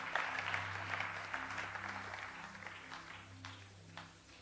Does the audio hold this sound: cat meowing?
no